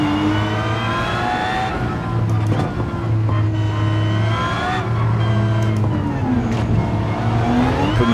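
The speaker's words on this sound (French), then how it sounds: "Alors ce bruit de moteur là, est-ce que ça vous plaît?" Aston Martin Vulcan engine in the Gran Turismo 7 racing game, a loud continuous high-pitched wail with rising and falling revs through gear changes at high speed, sustained throughout.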